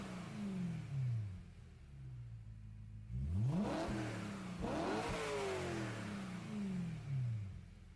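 A BMW M3 engine in a racing game revs up and down repeatedly, with rising and falling pitch sweeps, a sharp high-rev burst mid-way and gear-change dips, heard alone at moderate level.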